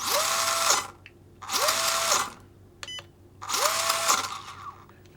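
HPI Venture 18 RC crawler drivetrain, three whirring motor-and-gear bursts that rise in pitch, hold and wind down, separated by short quiet gaps with a faint click between them.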